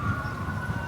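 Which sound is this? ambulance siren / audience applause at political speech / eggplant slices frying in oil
ambulance siren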